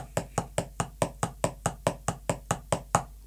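Drum strokes played as an alternating right-left singles exercise in even eighth notes, about fifteen crisp, evenly spaced hits in a steady rhythm, clear and close with a short decay after each.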